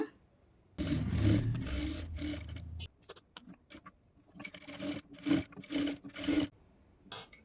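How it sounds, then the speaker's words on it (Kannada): A sewing machine stitches the neckline of a princess-cut blouse with a diamond neck, running in close, steady bursts of mechanical whirring and rasping separated by short pauses. "ಇವಾಗ ನೆಕ್ನ ಸ್ಟಿಚ್ ಮಾಡ್ಕೋತೀನಿ"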